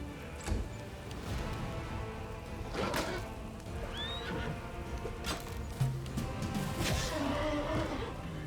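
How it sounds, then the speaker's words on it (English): A horse whinnies in a Pathfinder fantasy role-playing game battle as it goes down, one rising neigh standing out amid continuous layered combat noise, clattering hooves and scattered crashes. "And down goes my horse."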